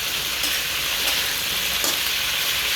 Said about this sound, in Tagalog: Prito natin ng konti yung ating tokwa.